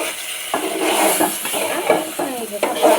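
Spices are tempered and sautéed in hot oil for hilsa curry, giving a loud, close sizzle with quick scraping strokes of a spatula against the pan.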